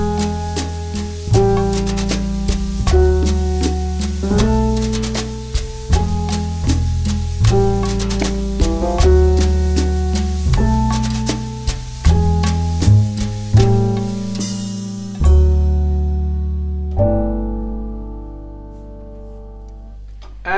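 Jazz piano in a Latin ballad bolero style plays steady rhythmic chords over sustained low bass notes, loud and close, then rings out and fades at the end; there is no talking.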